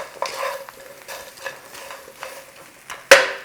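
Fried ribs being stirred with a salt and pepper mix in a wok produce a run of soft scraping and tossing strokes over a light sizzle, ending in one sharp metallic clank.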